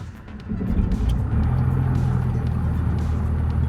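Left engine of a Diamond DA-62 twin-engine aircraft starting up, a steady low mechanical drone that rises after a brief quieter moment and then holds even and close throughout.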